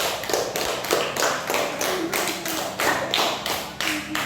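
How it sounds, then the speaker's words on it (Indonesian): A classroom gives group 2 rhythmic group clapping, a series of about ten evenly spaced, sharp bursts, close and fairly loud, with no talking. "Tepuk tangan untuk kelompok 2."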